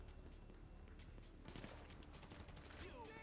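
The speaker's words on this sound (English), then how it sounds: "I'm being shot." Gunfire in the video game GTA V, faint rattling bursts and scattered shots in the background of busy game sounds, with a whistling sweep near the end.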